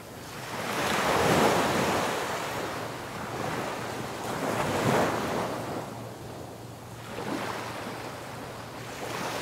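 Surf rolls in at Juhu Beach, Mumbai, on an evening shore, the waves swelling and breaking in slow surges under steady wind buffeting the microphone, with no voices.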